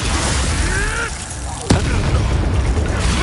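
A Bombarda spell going off in the wizarding game Hogwarts Legacy, one sharp blast cutting through constant dense battle noise and a spoken voice.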